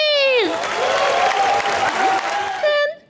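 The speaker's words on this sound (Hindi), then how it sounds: "जोरदार तालियां" Studio audience applause at a Hindi television comedy show, a steady burst of clapping lasting a few seconds with a sustained musical tone sliding over it before fading out.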